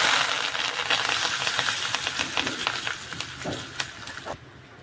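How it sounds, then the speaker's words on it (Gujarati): Curry leaves sizzling in hot oil with asafoetida and spices for Gujarati suki bhaji, a bright crackling hiss with quick spatters and stirring taps up close that fades out at the end. "હવે મીઠા લીમડાના પાન નાખીશું"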